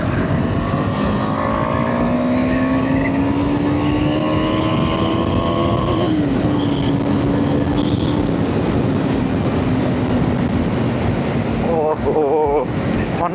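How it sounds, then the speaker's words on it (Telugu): A KTM 390 Adventure X motorcycle engine held at high revs on an open road: a loud, steady drone under heavy wind rush, dipping once midway, then stuttering and cutting in and out near the end as it hits the rev limiter. "సో ఇంజన్ అట్లా పవర్ కట్ ఆఫ్ అయ్యి మళ్ళీ స్టార్ట్ అవుతుంది"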